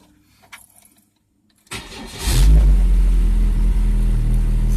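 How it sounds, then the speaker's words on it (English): A Chevrolet Cavalier cranks briefly after a quiet moment, catches and roars up, then settles into a loud, close, slightly uneven idle with a deep steady rumble. "let's go ahead, fire it up, and you'll hear how it runs."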